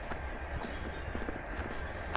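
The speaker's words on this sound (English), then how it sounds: "Oh, I hear a train" Low rumbling train noise with faint rhythmic clatter, a rail car rolling by at a moderate distance toward a tunnel with a thin metallic whine above, on Cannock Chase near the Shugborough Estate.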